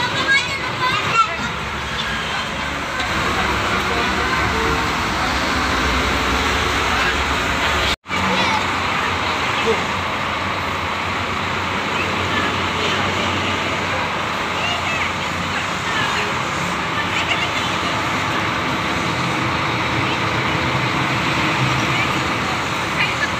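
Steady broadband rumble of a PT Rapi tronton bus rolling along the road on a Palembang to Medan trip, heard from inside the cabin, continuous and fairly loud with a brief dropout partway through.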